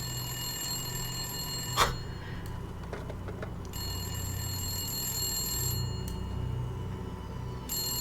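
A telephone rings on and off at a moderate distance, bright trilling bursts separated by brief pauses over a steady room hum, with a single sharp knock partway through.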